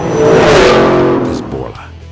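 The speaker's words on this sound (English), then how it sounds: "get ready for the intoxicating rush that comes with every squeeze of the throttle" A 2011-2014 Ford Mustang GT V8 with a Borla exhaust revs in one loud, sharp burst that swells and then falls away within about two seconds.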